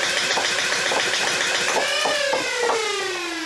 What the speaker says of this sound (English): Let's see full auto and we'll see if we see a lot of dip in as we're burst or firing full auto.